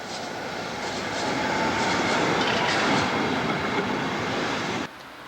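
A tram rumbles past on a busy city street, giving a loud, continuous broadband roar with faint rhythmic clatter that swells and then cuts off abruptly near the end.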